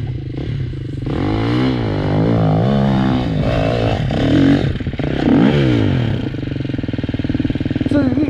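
A motorcycle engine revs loudly and unevenly close by with rattling mechanical clatter, the pitch rising and falling several times before the throttle is let off near the end, with voices briefly audible.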